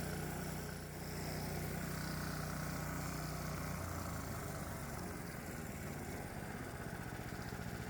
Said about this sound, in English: Let's let the engine idle and see what we get.